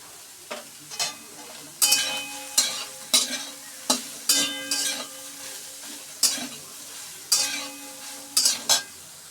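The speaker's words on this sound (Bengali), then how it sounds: "দেখো সোয়াবিনগুলো আমার ভাজা হয়ে গেছে।" Soybean chunks with turmeric fry in a pan while a spoon stirs them, giving repeated scraping clanks at an uneven rhythm over a soft sizzle, close and fairly loud, with no talking.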